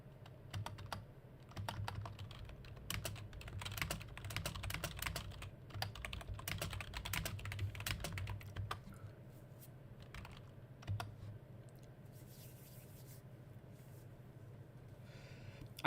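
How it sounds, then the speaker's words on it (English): Rapid clicking of a computer keyboard during a live stream, irregular bursts of keystrokes close to the microphone that thin out toward the end, with faint breathing and no speech. "Sorry about the typing, guys."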